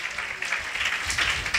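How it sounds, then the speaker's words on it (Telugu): A church congregation claps their hands in praise of the Lord, a steady, continuous patter of many hands at moderate loudness, with no voices standing out. "చప్పట్లు కొట్టి ప్రభు నామాన్ని ఘనపరుద్దాం"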